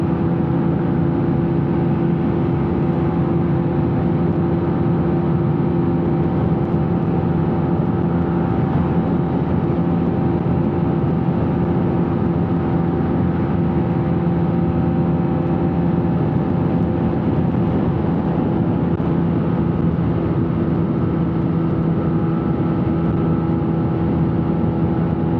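Honda RSX Winner motorcycle engine droning steadily at high revs while riding in top gear, a continuous loud hum with stable harmonics and rushing wind, no talking.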